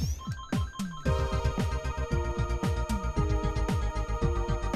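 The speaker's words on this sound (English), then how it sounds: "very sorry that my phone rang" Mobile phone ringtone going off indoors during a Mega Man ZX game session: a bright, repeating melodic chime pattern with sharp plucked notes, loud and close, playing alone for several seconds.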